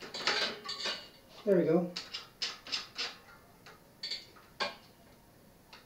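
A bicycle wheel's quick-release skewer is worked by hand with a run of small metallic ticks and clicks, close and fairly quiet, and someone speaks briefly over the start.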